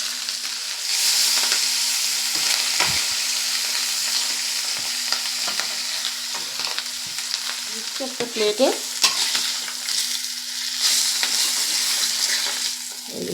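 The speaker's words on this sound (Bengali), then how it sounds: "যেহেতু মাছের পিসগুলো বড় বড়, তিনটে তিনটে করেই ভাজতে হবে, অল্প অল্প করে ভেজে নেব।" Large pieces of grass carp fish frying in oil a few at a time, with a loud, continuous crackling sizzle nearby, broken by stirring scrapes and a brief spoken phrase.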